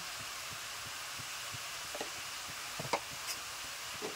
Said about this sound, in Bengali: ভালো করে নেড়ে নিই।